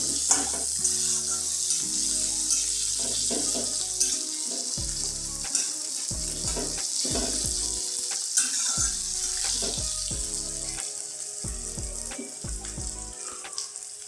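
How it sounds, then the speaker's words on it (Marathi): Chopped onion fries in a pan with a continuous bright sizzle, broken by repeated knocking and scraping of a spoon stirring, heard up close and without speech. "आता आपण याच्यामध्ये कांदा टाकू. कांदा आपण आता भाजून घेऊया."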